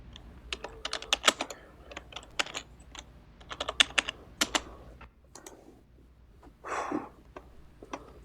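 Computer keyboard typing in irregular bursts of sharp, close clicks, followed by a brief breath or sniff near the end.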